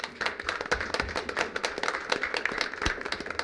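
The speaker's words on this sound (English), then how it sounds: "The first round of applause throughout tonight" A small group claps at a city council meeting, with sharp, close, individual hand claps in an irregular pattern and a few louder ones near the end.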